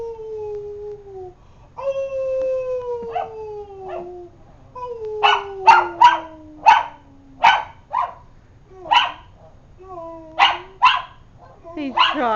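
A dog attempts to howl, giving a run of short, strained yips and barks in an uneven rhythm close by. A person's long, drawn-out imitation howls come first, and a voice briefly exclaims.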